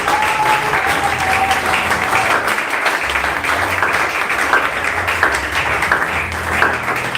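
A church congregation applauds together in a dense, continuous wash of clapping that stays steady and fairly loud throughout, with faint murmurs mixed in.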